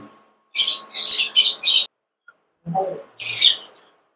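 Small parrots such as lovebirds and cockatiels call at a bird market, giving a run of four sharp, loud chirps, a short lower squawk and then one more bright call, all close by with no voices.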